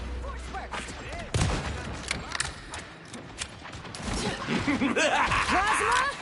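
Rapid gunfire bursts in a video game crackle and thump through a busy battle mix, the shots arriving in quick clusters amid other game effects.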